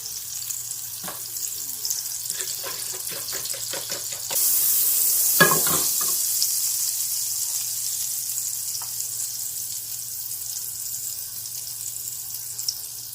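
Butter and sunflower oil sizzle in a pan as French toast goes in, a loud steady frying hiss that starts suddenly after a few quiet clicks and carries on evenly to the end.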